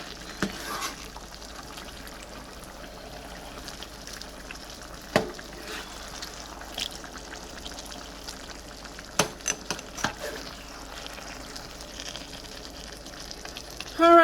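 Spinach and potatoes fry in a pan with a steady low sizzle, broken by occasional scrapes and clicks of a utensil stirring them, close and fairly quiet.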